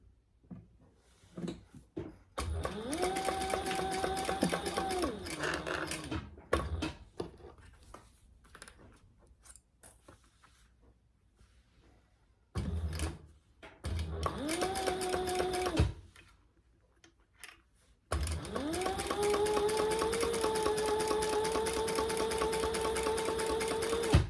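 A sewing machine top stitches vinyl on a bag in three long, steady runs of whirring motor hum, each with a rising pitch, separated by quiet pauses with small clicks.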